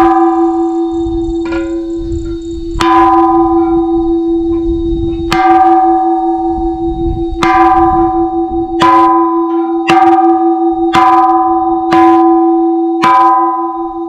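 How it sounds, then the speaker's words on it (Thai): Temple bell at a hilltop Buddhist site in Suphanburi struck about ten times at irregular intervals, each loud ringing strike leaving a long sustained hum, with a low rumble of wind or handling between hits. "เคาะระฆังครับ"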